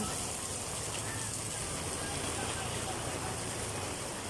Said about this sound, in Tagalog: Grabe lakas ng ulan. Naabutan tayo sa daan.